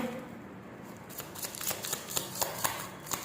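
Tarot cards are shuffled close by in quick papery riffles that start after a quiet second and grow denser toward the end, with no voices.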